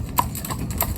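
Hooves of Silver the Cob, a driven horse, clip-clopping on a road, with a few close, distinct strikes in quick succession and no voices.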